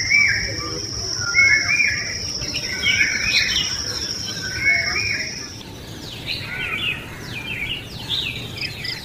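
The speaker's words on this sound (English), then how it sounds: "Sound of chirping birds is the best meditation music in the world." Several birds chirping and twittering in overlapping calls, with a steady high insect-like trill and light background noise outdoors.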